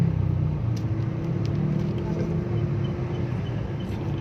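Steady low road rumble from slow, congested morning traffic on the way to Malolos, with engines idling and crawling nearby, continuous and moderately loud with a faint voice murmuring under it.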